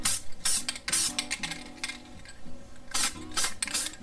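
Red suede coating sprayed from an aerosol can onto the horn button of a 1970 Plymouth Cuda, bursts of close hissing spray alternating with short pauses and faint clicks.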